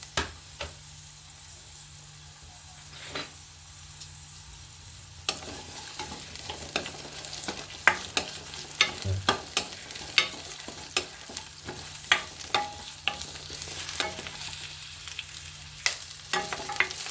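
Sliced onions and a small piece of cinnamon sizzle in about a spoonful of hot oil, with soft frying hiss and scattered clicks of stirring, growing busier after a few seconds and continuing steadily without any voice.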